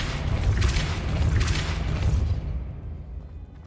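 The Depulso spell is cast in Hogwarts Legacy. It gives a loud, dense boom with a rushing whoosh, rises in a couple of swells, then fades out over about three seconds.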